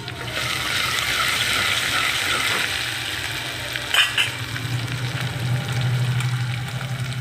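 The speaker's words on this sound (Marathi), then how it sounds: "आता हे अद्रक लसूण आपण केलेली पेस्ट टाकायची थोडी" Ginger-garlic paste sizzles in a hot pan while dal amti cooks, a steady close frying hiss throughout with a brief clatter around the middle.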